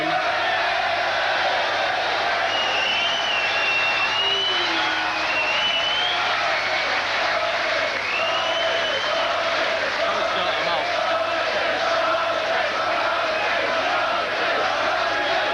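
Crowd at the 1995 World Darts Championship final between Rod Harrington and Phil Taylor keeps up sustained applause with scattered whoops and shouts rising above it, a broad continuous roar of the audience.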